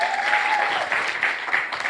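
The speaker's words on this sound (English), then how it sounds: "Give a round of applause for yourselves." A seminar audience at a small business funding event applauds itself, a brief, steady wash of clapping with a voice faintly audible underneath.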